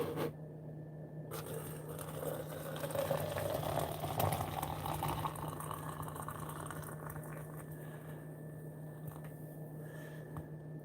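Hot water is poured over sorrel leaves to steep a strong tea, giving a soft, steady hissing fill that swells and then settles over a low, constant background hum.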